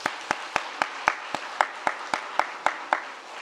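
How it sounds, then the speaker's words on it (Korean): Evenly spaced hand claps, about a dozen sharp slaps in a steady rhythm, like a small group clapping together in time, at a Sunday church service after a musical performance. "우리 박수 한번 다시 할까요?"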